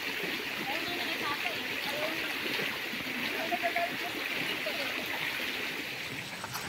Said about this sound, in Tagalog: Maririnig mo lang pagaspas lang ng tubig at mga huni ng ibon.